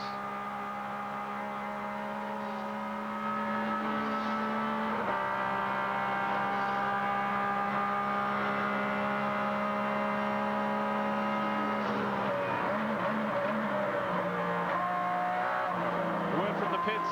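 Onboard a Grand-Am sports car racing in the 2003 Rolex Sports Car Series Sahlen's Grand Prix, the engine holds a loud steady howl, jumps in pitch at gear changes and wavers as the tires load through corners.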